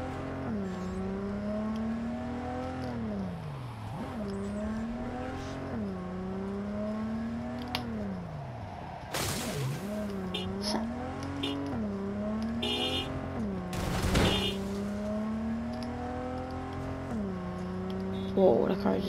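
A fast car in Cyberpunk 2077 drives hard, its engine note rising and falling steadily through repeated gear changes, with two brief crashes or impacts along the way and a voice talking over the engine.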